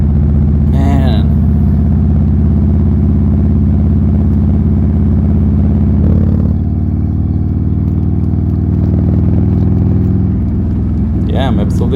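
A Buell Lightning XB12S motorcycle engine rumbles loud and close with a deep, steady throbbing idle and a brief rev near the end, while someone talks over it.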